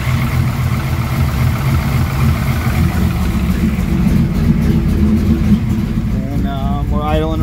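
A 1995 Pontiac Trans Am with a TPIS cam during a cold-start warm-up, its V8 engine running loudly at raised RPM with a steady lopey rumble, someone talking over it near the end.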